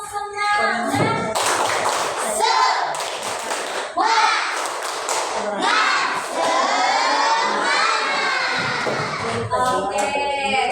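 Schoolchildren in a classroom perform the rhythmic "tepuk semangat" clapping chant, shouting the words loudly together between bursts of patterned claps, with lively crowd noise throughout.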